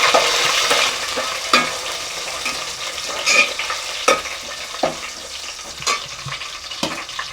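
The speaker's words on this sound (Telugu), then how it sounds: "ఉల్లిపాయ బాగా వేగిన తర్వాత పచ్చిమిరపకాయ వేసుకుంటున్నాం అలాగే కొంచెం కరివేపాకు వేసుకొని కలుపుకోవాలి" Onion, green chillies and curry leaves sizzle steadily in hot oil for an Andhra fish curry, while a spoon scrapes and stirs the pan in repeated clinks and scrapes, close and alone without talking.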